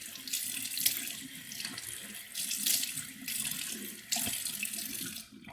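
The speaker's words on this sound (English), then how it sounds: "Now what I'll do is just then wash my entire face." Tap water running steadily into a bathroom sink while a face is washed, with soft splashing and hand movement in the stream, close and moderately quiet.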